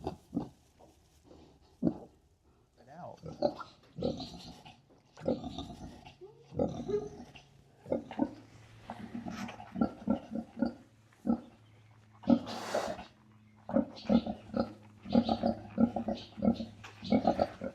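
A Kunekune sow farrowing her first litter of newborn piglets, giving frequent close grunts and oinks in irregular bursts with occasional higher squeals throughout.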